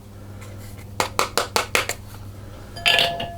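A utensil clinks against a bowl while cheese, onion and mustard powder are mixed for cheese and onion pasties: a quick run of five or six sharp taps, then a brief scraping rattle, close by with no talk.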